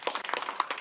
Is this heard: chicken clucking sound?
no